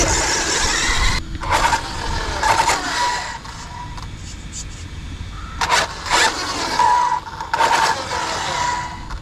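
An electric RC off-road car motor with a 19-tooth pinion, cogging and stuttering, comes through in repeated short bursts of rough, buzzing whine separated by brief pauses, with a broadband rumble underneath.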